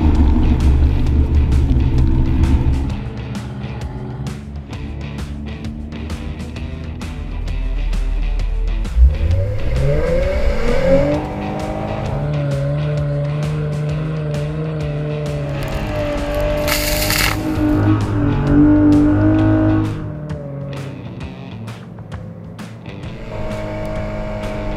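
A Jeep Wrangler engine revs hard while climbing steep sand dunes, with loud rising and falling surges as wheel speed builds. The engine stays close and strong the whole way, easing briefly midway before pushing again.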